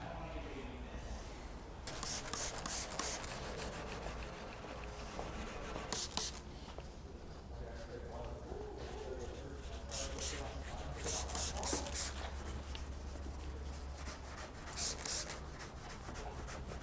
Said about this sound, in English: I'm going to show you how to properly clay this section of the hood here